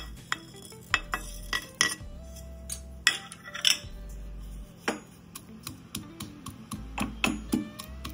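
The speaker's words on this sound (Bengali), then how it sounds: "দেখুন, জিরে, গোলমরিচ আর 5টা রসুনকে এভাবে থেতো করে নিয়েছি।" Cumin, black pepper and garlic cloves being crushed by hand, giving irregular sharp knocks and scraping taps close up, with short pauses between strikes.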